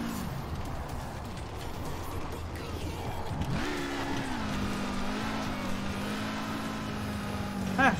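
Car engine in the racing game Forza Horizon 4, a steady mid-pitched drone that rises in pitch partway through and holds, with game sounds and voices talking over it.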